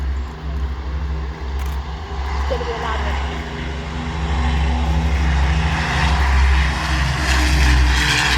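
A Wedgetail AW1 aircraft flies in at an air show. Its engines make a steady, loud drone that swells slowly as it nears, blending with the low hum of the crowd and site around it.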